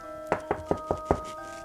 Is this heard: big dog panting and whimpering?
no